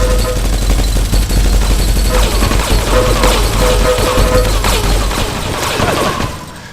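Rapid gunfire bursts in the online shooter game TrackRacing Online, loud dense volleys and crashes crackling continuously, with no speech, fading slightly at the end.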